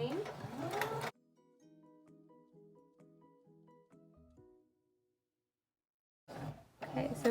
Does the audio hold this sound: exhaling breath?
no